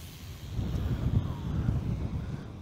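Gusty wind buffets the microphone at an RC airplane flying field during the second flight of a Precision Aerobatics XR-61, a steady low roar with rising and falling rushes, no voices.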